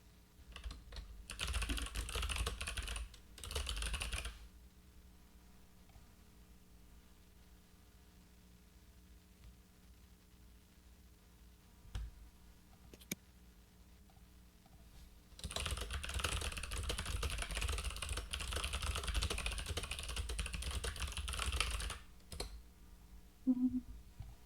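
Code being typed on a computer keyboard in two long bursts of fast, close key clatter, separated by a quiet pause of about ten seconds with only faint background hiss.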